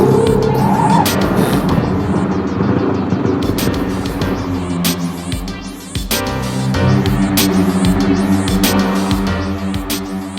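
A car pulls away and drives off in an action film scene, its engine a steady loud rumble layered with music and effects throughout, with a sharp knock near the middle.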